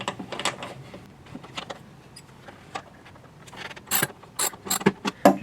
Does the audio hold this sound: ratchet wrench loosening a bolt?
yes